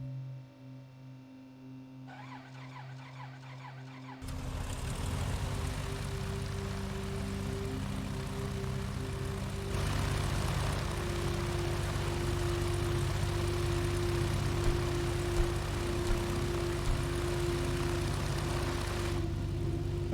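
A BN-2 Islander in Microsoft Flight Simulator starts up. Quiet whirring and clicks come first, then the propeller engine catches and settles into a loud, steady drone that holds to the end.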